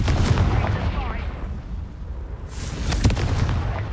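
A Confringo fire spell blasting in the Hogwarts Legacy video game, heavy booming bursts with rumbling tails under dense combat noise, a sharp crack near the end.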